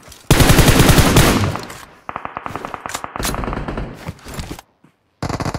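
Rapid video game gunfire, a long loud burst of automatic shots followed by several shorter rattling bursts and single cracks, then a brief silence before firing resumes.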